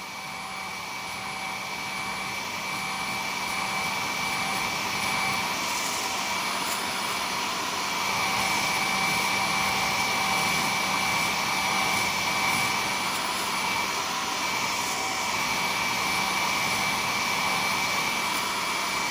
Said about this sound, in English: I'm going to cure it with the hair dryer